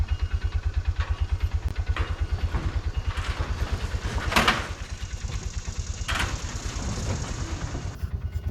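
A Bobcat 3400XL side-by-side utility vehicle (Polaris Ranger 500) running close by, its engine chugging in a steady low pulse, with a brief rev swelling around the middle before settling back to idle, and a few clanks over it.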